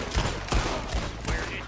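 Several loud gunshots in Red Dead Redemption 2 boom in a steady rhythm, about four sharp cracks spaced roughly every third of a second, with faint game ambience between them.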